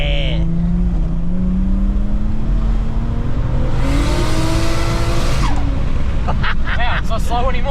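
A Nissan Skyline R31 sleeper with an intercooler accelerates hard, its loud engine note climbing steadily through the gears with a brief shift break and some tire noise; voices come and go over it.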